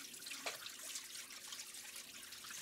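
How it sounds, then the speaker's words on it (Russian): Water running from a tap and splashing in a sink as paddlefish caviar is rinsed, a steady faint trickle and wash with small splashes, quiet and continuous. "начинаем промывку икры"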